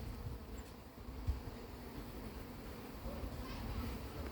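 A honeybee colony grows agitated while a swarm is being hived, giving off a steady low buzzing drone throughout, faint and continuous, with a brief thump partway through.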